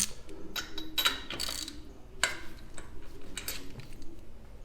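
A socket wrench loosening a spark plug on a Harley, heard as a series of close, light metallic clicks and ratcheting ticks in irregular bursts, fairly quiet.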